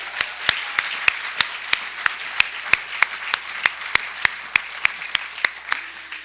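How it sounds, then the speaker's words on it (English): Applause at a university alumni conference forum is heard as a single steady run of sharp, evenly spaced claps, about three per second. The claps are close and crisp and continue for several seconds before stopping. "Let's give him another round of applause."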